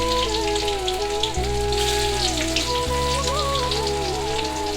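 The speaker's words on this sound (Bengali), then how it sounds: "তেলের মধ্যে দিয়ে দিলাম রসুন কুচি," Chopped garlic hits hot oil in a wok for bitter gourd fry, crackling in a dense, even, rain-like sizzle that runs throughout beneath background music.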